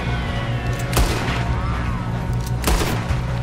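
Two loud gunshots in Red Dead Redemption 2, spaced well apart as sharp booms over a continuous low in-game rumble.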